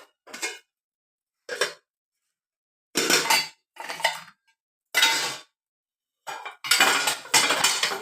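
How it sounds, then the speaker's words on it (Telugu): Steel pots, dishes and cutlery clatter in bursts while being scrubbed and washed by hand, with short separate clanks early on and heavier, longer rattling toward the end, close and loud with no talking. "ఇన్ని గిన్నెలు ఉన్నాయి తోమడానికి, అన్నీ క్లీన్ చేయాలి ఇప్పుడు"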